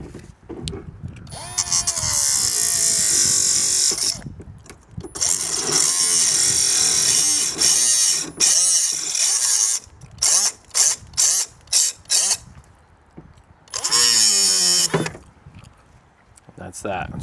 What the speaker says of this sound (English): I had to go grab my little, excuse me, cutting tool. Our bolt cutters just wasn't doing the trick.